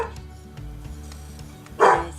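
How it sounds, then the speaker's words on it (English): Small dogs bark in a short burst at a reptile keeper's home, one sharp loud yap standing out near the end over low background noise. "so excuse the dogs from barking."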